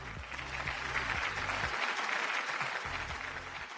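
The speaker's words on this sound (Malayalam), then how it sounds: "നല്ലൊരു കൈയടി." A studio audience at a TV game show applauds in a dense, sustained burst of clapping that stays loud and even throughout.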